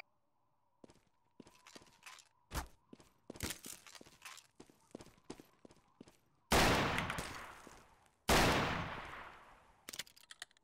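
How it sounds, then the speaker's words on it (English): Shotgun blasts from the Garry's Mod TTT video game ring out among scattered sharp clicks and smaller shots, with two especially loud, booming reports that trail off slowly. "you're shooting a shotgun from the roof"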